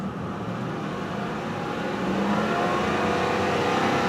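A 1998 Lexus LS 400 with about 229,000 miles and the air conditioning running revs its engine, a smooth hum that climbs to a louder, steady high-rpm drone near the car.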